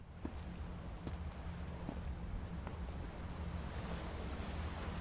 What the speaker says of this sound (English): I'm terrified of open water, but I love the sound of waves.